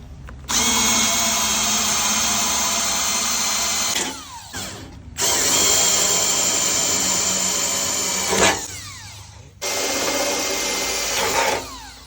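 A power drill boring holes into a metal storefront door frame, three loud sustained whining runs of several seconds each, separated by short pauses, close up with no talking.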